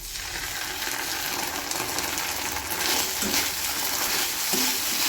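Tomato sauce being stirred into frying chicken in a pan, a dense continuous sizzle with occasional soft scraping and bubbling sounds, close and steady.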